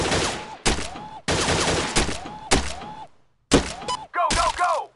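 Gunfire from a shooter video game played on PS4, a series of loud sharp shots and bursts in close succession, each cut off abruptly, with a brief silent gap before the final shots and a voice shouting among them.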